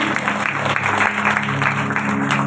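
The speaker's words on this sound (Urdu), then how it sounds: "آپ نے بھی ایک دفعہ زوردار تالیاں بجائیں" A church congregation claps loudly in worship, dense applause over a low sustained musical hum, continuous for the whole short stretch.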